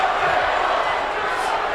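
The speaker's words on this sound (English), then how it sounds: "now the crowd starts chanting" A large arena crowd chants and roars in a dense, continuous wash of voices at a boxing event, loud and unbroken throughout.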